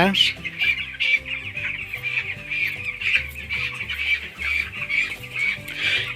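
A flock of 16-day-old broiler chickens on a farm clucks and peeps continuously at close range, with overlapping calls over a low background hum.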